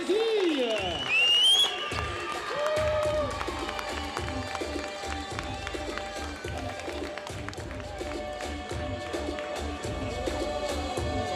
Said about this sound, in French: Allez, on peut encore les applaudir.